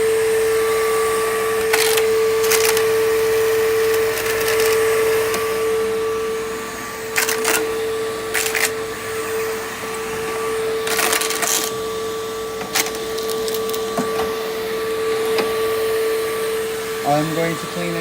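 A PowerForce vacuum cleaner drones steadily on a floor, its motor tone constant while sharp knocks and rattles of debris and contact with furniture break through at intervals, close and fairly loud.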